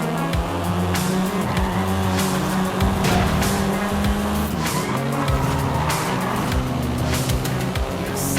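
A seventh-generation Volkswagen Golf R driven hard in the Forza Horizon 5 game, its engine revving loud and shifting up and down while tires squeal and skid repeatedly, close and constant.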